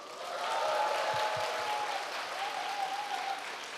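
A seminar audience claps in a steady, full round of applause for nearly four seconds, with a faint murmur of voices underneath.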